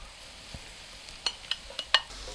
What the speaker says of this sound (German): Ungefähr 2 Minuten später kommt der Knoblauch hinzu. Dann auch gleich die Möhrchen hinterher.